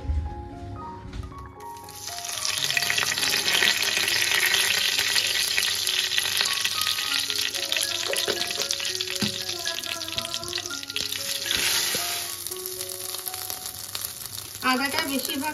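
Dry red chilli, bay leaves, cumin seeds and ginger tempering in hot oil, a loud dense sizzle that swells after a quiet start, with occasional faint clinks and stirring.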